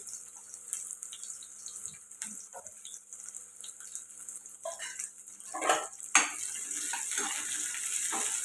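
Chopped onions and green chillies frying in a pan after mustard and cumin seeds, scattered soft crackles and stirring noises that swell into a louder steady sizzle toward the end.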